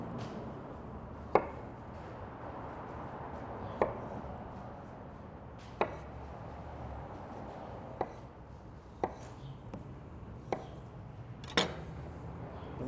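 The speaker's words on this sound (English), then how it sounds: "Cut them into nice big chunks." A knife chops zucchini and squash into big chunks for skewers, about ten crisp, separate thuds on a cutting board at an uneven, unhurried pace, close and fairly quiet with no talking.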